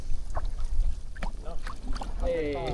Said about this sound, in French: faire du kayak sur l'océan Antarctique